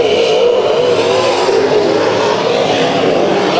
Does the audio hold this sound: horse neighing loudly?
no